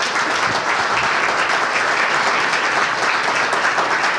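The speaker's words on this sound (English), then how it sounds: "they deserve yet another round of applause" A hall audience applauds the six presenters at a She Talks 2022 event, producing a dense, loud, even roar of clapping that holds steady from start to finish without any voices.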